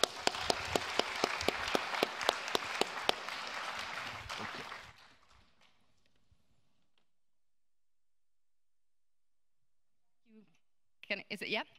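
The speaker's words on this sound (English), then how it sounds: "So please give a round of applause for our excellent panel." A seminar audience in Helsinki applauds a panel: a dense burst of clapping with a few sharp, close claps standing out, fading away after about five seconds into near silence, then a few brief noises near the end.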